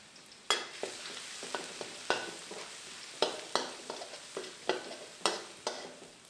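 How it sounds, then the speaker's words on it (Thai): Chopped Thai garlic fries in oil, a soft continuous sizzle broken by a regular series of sharp scraping strokes of a spatula against the pan, close and fairly quiet, with no voices. "เจียวกระเทียมจนเหลืองก่อนนะครับ"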